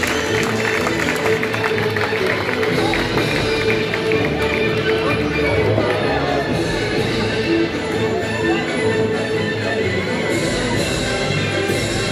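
Applause from an outdoor crowd at an event in Castries, a dense, steady patter of clapping hands that fills the whole stretch without pause, with crowd murmur mixed in.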